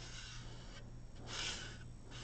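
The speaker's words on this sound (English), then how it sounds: "That's why I love this sanding stick." A sanding stick rubs over a scale model car body in short back-and-forth strokes, giving soft, close, raspy scrapes in three or four bursts over a low steady hum.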